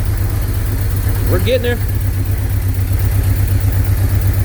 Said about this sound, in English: Does that sound like a 4-cylinder to you guys? The Fiero exhaust on the Honda. That sounds so good.